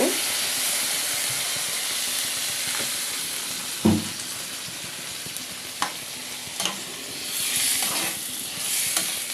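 Water poured into a pan of frying eggplant and egg curry sets off a steady, close sizzling hiss, broken by a few sharp clinks and stirring knocks.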